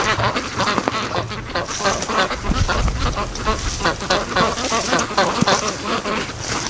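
A flock of ducks quacking loudly and continuously nearby, overlapping calls forming a busy, raucous chorus.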